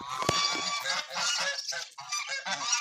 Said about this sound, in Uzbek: Begunoklar, g'ozlar.